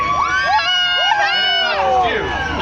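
A loud crowd at a NASCAR race cheers and shouts close by, with high whoops and squeals rising and falling over a dense roar of voices.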